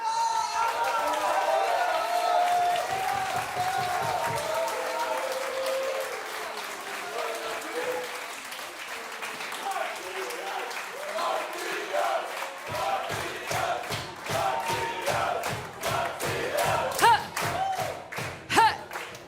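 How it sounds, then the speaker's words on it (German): An audience at the live final of Plattsounds 2021, a Low German music contest, bursts into sustained applause, with rhythmic clapping growing louder and more distinct toward the end, mixed with crowd noise and some voices. "einen großen Applaus für the one and only Matthias Kaas"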